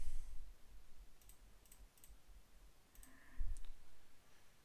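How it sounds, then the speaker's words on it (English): Scattered keyboard clicks come in short bursts of two or three keystrokes during a Hellish Quart ranked match, crisp and close but quiet against a low background hum. "Yeah, keyboard, yeah"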